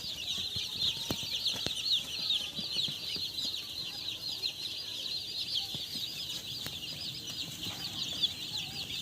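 Three-day-old poultry chicks fill a brooding room with a dense, continuous chorus of high cheeping that stays even and fairly soft from start to finish.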